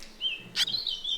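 A swallow gives thin, high chirps close by, with a short sharp squeak in the middle of the calls and a faint low rumble beneath.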